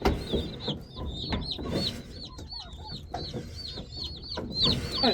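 Many turkey poults chirp and peep in busy overlapping bursts, close by, with soft rustling and bumps underneath.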